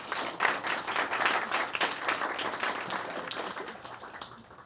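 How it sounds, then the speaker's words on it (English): A crowd at a product managers' AI event claps in steady, dense applause that fills the whole stretch before easing slightly toward the end, with no speech over it. "Can we just give another huge round of applause?"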